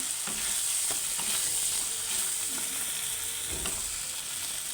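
Spices fry in hot oil for a cabbage curry with fish head, making a constant close sizzle with scattered small crackles and pops and no talking.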